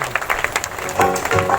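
A church congregation at an Easter prayer meeting clapping for God, a short burst of scattered applause with uneven claps rising and falling, close and moderately loud.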